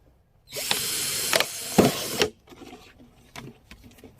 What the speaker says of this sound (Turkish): Şimdi üstten ikinci boğumdan bir delik deliyoruz.